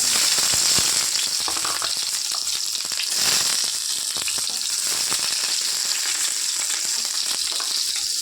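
Mustard seeds and shallots fry in hot coconut oil in a pan, a loud, steady close sizzle with a dense crackle and scattered pops from the seeds throughout, no voices.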